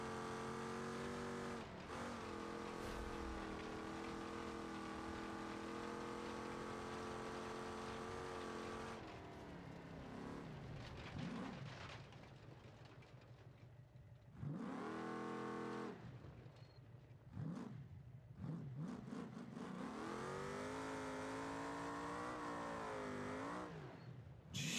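A car engine drones and revs in BeamNG.drive during an Ultra 4 off-road run, the two-wheel-drive car's engine climbing in pitch, dropping off, and surging again over about twenty-five seconds, with no talk heard.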